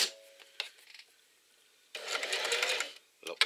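A sewing machine stitching a shoulder strap in short bursts: a brief whirring run at the start, a longer rapid stitching burst in the middle and a final short burst, with quiet gaps between.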